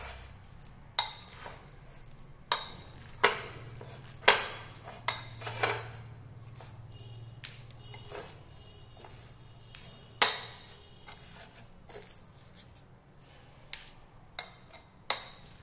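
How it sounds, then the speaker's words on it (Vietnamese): A spoon mixes minced meat seasoned with salt, pepper and five-spice in a bowl, giving intermittent clinks and scrapes against the dish, some sharp and some soft, with quiet pauses between. "Các bạn sẽ trộn đều cái hỗn hợp này lên cho mình nhé."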